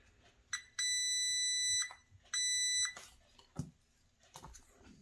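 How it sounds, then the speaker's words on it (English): Two sustained high multimeter continuity beeps during an Optoma HD8600 DLP projector power supply repair, each about a second long, sound close and clear with short gaps, followed by faint clicks and handling noise. "Listen for the beep."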